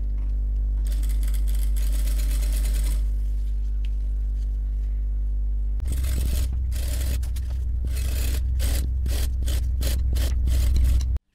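A sewing machine stitches a zipper onto a shopping bag, a steady mechanical hum followed by a rapid run of stitching bursts, close and loud.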